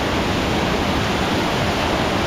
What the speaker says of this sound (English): we're gonna go underneath this waterfall